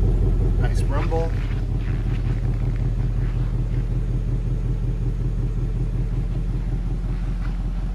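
Idling 2017 Ford Mustang GT California Special, a steady low throbbing engine rumble heard close and continuous, with a brief higher sound near the start.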